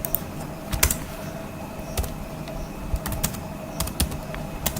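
Code is typed on a computer keyboard: close, crisp key clicks come in irregular bursts and scattered single taps at a moderate level over quiet background hum, with no voices.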